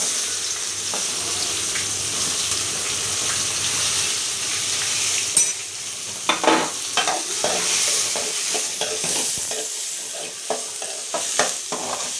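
Chopped small onions sizzle and crackle steadily in hot oil, with clinks and scrapes of a utensil stirring the pan, close up and without talking.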